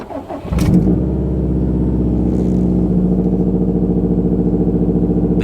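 A car engine with its O2 sensor unplugged cranks briefly, catches and settles into a steady, rhythmic idle, loud and close, with no talking.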